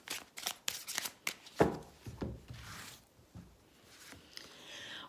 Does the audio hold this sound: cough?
no